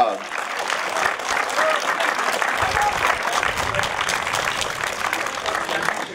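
Steady applause from spectators at a hill climb motorsport prize-giving in Turckheim, sustained clapping throughout with a crowd murmur beneath.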